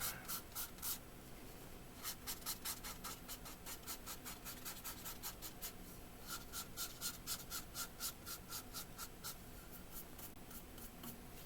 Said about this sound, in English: Now I'll just do a little sanding with the grain.